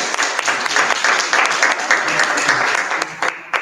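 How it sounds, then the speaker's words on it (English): An audience at a bookstore author event breaks into a steady round of applause, close and continuous, thinning slightly near the end. "Let's have another round of applause for our friend."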